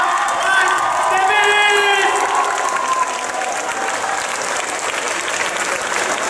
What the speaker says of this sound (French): s'il vous plaît, un tonnerre d'applaudissements pour Monsieur Rhys Davies.